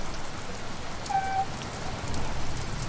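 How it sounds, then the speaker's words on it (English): Steady rain falling on surfaces in the Farming Simulator 17 farming game, a continuous even hiss with a brief faint tonal beep in the middle, no talking. "We're heading home in the rain."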